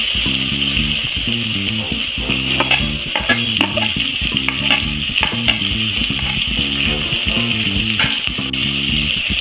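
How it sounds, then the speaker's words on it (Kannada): Onions frying in a pan for egg biryani: constant close sizzle with repeated rhythmic scraping and clinking of a spatula against the pan, a steady mechanical hum underneath, no talking. "ಇವಾಗ ಆನಿಯನ್ಸ್ ಹಾಕೊಂಡು ಕ್ಲೀನಾಗಿ ಫ್ರೈ ಆಗಿದೆ."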